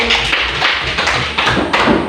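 A school class claps for a student group, a short burst of hand claps and thuds, close and loud, with no voices.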